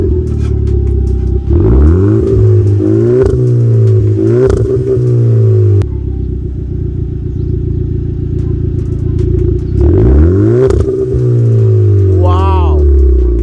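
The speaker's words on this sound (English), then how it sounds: "just to hear how the exhaust sounds from the inside" A Polo 6R GTI engine revs repeatedly, rising and falling in pitch with a deep rumbling exhaust, loud and close, with steady idling between bursts.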